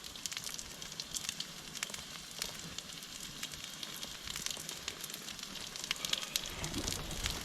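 Sausages and black pudding frying in a pan on a paraffin stove inside a hot tent, a steady hissing sizzle dotted with small crackles and pops, continuous and fairly quiet, with no voices.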